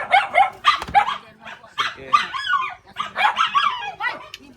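Several dogs bark and yip in quick, overlapping bursts close by, with a brief whine mixed in, loud and continuous.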